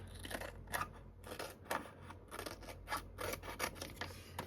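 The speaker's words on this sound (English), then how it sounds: "I'm gonna cut off the excess" Scissors cut off excess material in a series of quiet, close snips and crisp rustles, with an irregular rhythm.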